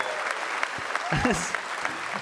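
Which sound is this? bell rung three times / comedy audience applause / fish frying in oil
comedy audience applause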